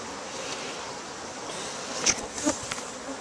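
Honey bees buzz continuously around an open beehive fitted with a queen excluder, a dense steady drone with a few louder individual bees passing close by.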